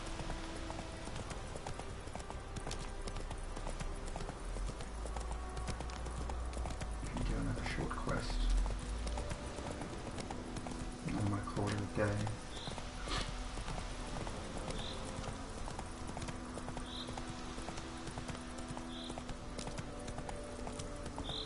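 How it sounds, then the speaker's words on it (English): A horse's hooves clop in a steady rhythm throughout as it gallops in the video game The Witcher 3: Wild Hunt, with an occasional whinny and some talking mixed in. "seriously could just watch riding around on this horse all day long"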